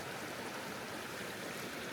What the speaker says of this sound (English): There's a lot of water downstream.